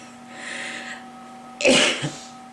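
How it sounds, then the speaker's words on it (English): A single person gives a sharp, close cough after a soft breathy exhale, one abrupt burst followed by a smaller catch, against a faint electrical hum. "Had to take myself off camera there for a little cough."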